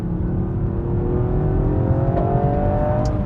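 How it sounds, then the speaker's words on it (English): A Toyota GR Yaris engine hums steadily as rev matching blips the throttle on a downshift into second, a smooth rising drone with faint whir and no talk. "We'll just turn the rev matching on just to see how it performs. So into third and into second."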